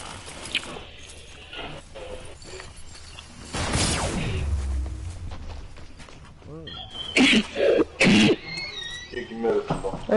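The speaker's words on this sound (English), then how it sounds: "Sounds like your lungs coming out every time you cough." A person coughs during a Fortnite gaming session: a few harsh, throaty bursts close to the mic, mixed with talk and some fainter clicks and background noise.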